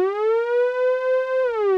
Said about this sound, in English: So this is the depth of the portamento.